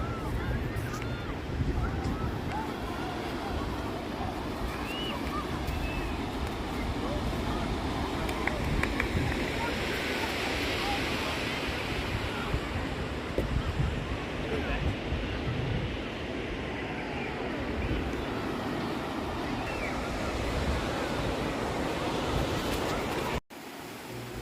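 Small ocean waves at a beach wash in a steady, continuous roar, mixed with heavy wind buffeting the microphone, with no clear voices.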